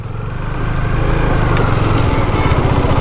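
A motorcycle engine idles steadily and close by while the rider parks on a stony roadside stop along the old Mumbai–Goa highway, a low continuous rumble with no talk over it.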